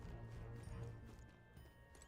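Hooves of a goat-horse creature in the video game Metaphor: ReFantazio, a faint, irregular clopping over a low ambient bed with no talking.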